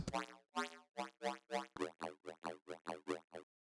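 Serum 2 riddim bass synth patch driven by an LFO on the Maelstrom SQUARE4 wavetable, playing a run of about a dozen punchy, rhythmic wobbling notes, loud and dry with short gaps between them and no voices.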